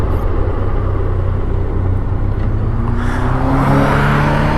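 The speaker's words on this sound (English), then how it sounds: "When you have a Ferrari behind you, you let them by." A Ferrari overtakes on the M-119 Tunnel of Trees scenic road in northern Michigan, its engine note rising briefly over the loud, steady rumble of a nearby motorcycle engine and wind.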